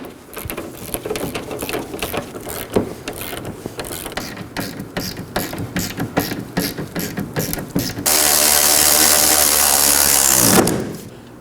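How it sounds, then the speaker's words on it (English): A power tool ratchets rapidly on three 18mm suspension bolts and nuts of a 2018-2024 Chevrolet Equinox rear axle, loud and close, then a sustained whirring burst near the end. "Now we're going to go ahead and snug down these three 18mm bolts and nuts on the suspension."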